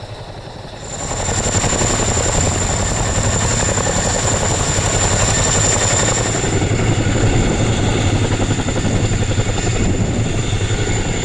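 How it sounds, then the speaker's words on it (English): A Boeing CH-47D Chinook helicopter drills slope takeoffs and landings on a southern hillside, its heavy twin-rotor thrum swelling in after a second and then holding loud and steady, close by, with no talking. "Boeing CH-47D, conducts gradient operations training on EHGR's southern slope, simulating challenging takeoff and landing scenarios"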